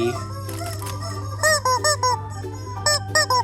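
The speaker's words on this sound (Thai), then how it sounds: "ไก่แบบมีเสียงร้อง" A toy chicken squeaks in quick bursts, several short squawks in two clusters over a steady low electrical hum.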